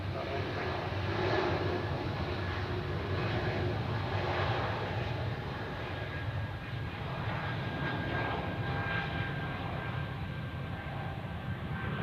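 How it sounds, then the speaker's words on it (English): An Airbus A330 airliner at Zurich airport gives a steady, loud jet engine roar that holds evenly throughout, a broad continuous rumble with no pauses. "Okay, time for the next A330."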